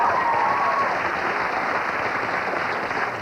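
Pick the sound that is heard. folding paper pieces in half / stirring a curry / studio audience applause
studio audience applause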